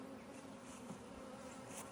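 Honey bees buzz steadily and close around a nucleus colony hive being set up for bought queens, a continuous droning hum with no pauses.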